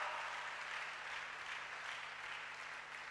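Congregation clapping together during a Sunday worship service in a church, a steady dense wash of applause held at even loudness throughout, with no talk over it.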